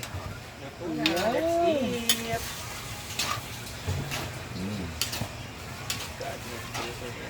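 Pancit gisado is stirred in a pan with scraping and clinking utensil strokes over a light sizzle, while a voice talks briefly near the start.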